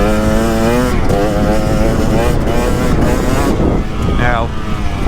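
A KTM 300XC two-stroke dirt bike engine revving hard and close, its buzzing pitch climbing and falling through throttle changes, loud and continuous, with a rider's voice talking over part of it.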